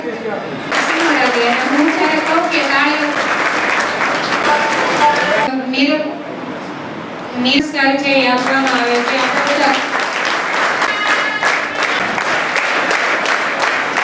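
An audience claps steadily at a girls' high school annual prize-giving ceremony, a broad patter of applause running beneath a loud voice speaking over a microphone.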